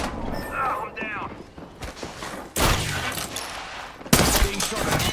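Video game gunfire aimed at the player comes in loud, sharp bursts of rapid shots and blasts, separated by quieter stretches where a voice talks with clanking mechanical sounds behind it.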